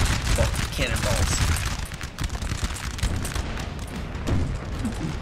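Booming artillery and rattling musket volleys from a Napoleonic Total War battle form a dense, continuous roar of repeated blasts with layered gunfire. Faint voices come through underneath.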